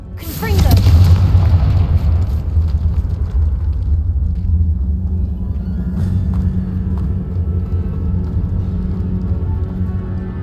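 A Confringo blast spell from Hogwarts Legacy goes off as a loud, close boom, followed by a long, heavy rumbling decay that fades slowly over several seconds.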